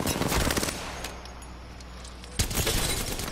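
Automatic weapon fire in the video game Apex Legends crackles in rapid bursts, loud and close, breaks off into a brief lull, then resumes abruptly.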